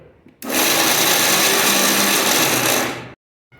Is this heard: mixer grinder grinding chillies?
yes